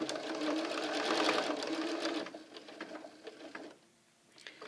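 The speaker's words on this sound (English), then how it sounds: "Now I am actually going to sew right through to the edge." Sewing machine stitching the binding on a Christmas tree quilt, running in a steady rapid whir for about two seconds. It then slows into scattered clicks and stops near the end, close and moderately quiet.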